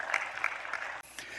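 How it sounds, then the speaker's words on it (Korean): Short burst of church congregation applause, scattered rhythmic claps in a worship hall, briefly dropping out before resuming. "하나님께 영광의 박수 돌립니다."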